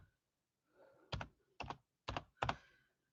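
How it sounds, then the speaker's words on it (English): Slow typing on a computer keyboard: four separate bursts of keystrokes, each a quick cluster of clicks, with short pauses between them in an otherwise quiet room. "I'm trying to type this link for you guys here."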